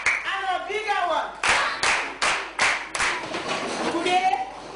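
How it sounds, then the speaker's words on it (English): A classroom of children claps in several sharp, loud bursts with short gaps between them, while a teacher's voice talks over and between the claps. "A big clap. Another one. And a bigger one."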